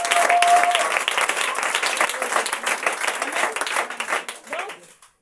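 A church congregation bursts into sustained applause and clapping, loud and dense throughout, with voices mixed in, fading toward the end.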